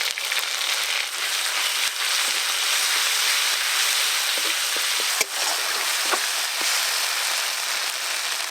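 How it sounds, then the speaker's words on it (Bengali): Spice paste with turmeric, green chilies and five-spice frying in mustard oil in a village kitchen, sizzling loudly and steadily while it is stirred, with occasional scraping clicks from the spoon. "2-1 বার ভালো করে নেড়ে নিয়েছি"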